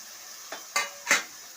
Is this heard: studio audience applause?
no